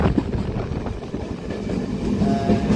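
Yarl Devi passenger train running past Omanthai railway station, heard as a steady close rumble of wheels and carriages with faint rhythmic rail clatter throughout, no voices.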